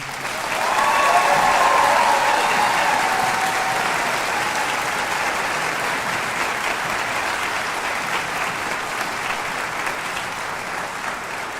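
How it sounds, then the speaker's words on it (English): Sustained applause from a large audience at a high school graduation ceremony for the arts, honoring the evening's performers, swelling quickly and holding steady for about eleven seconds with a faint whoop near the start. "It feels like there should be another pause and another round of applause."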